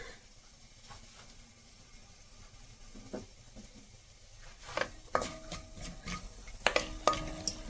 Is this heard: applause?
no